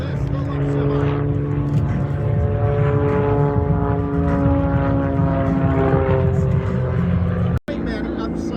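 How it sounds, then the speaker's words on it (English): A propeller airplane drones loudly through aerobatic rolls and somersaults at the Canadian International Air Show in Toronto, a steady close engine hum with a brief dropout near the end. "Rolls on her wing one way, now somersaults the airplane through the sky."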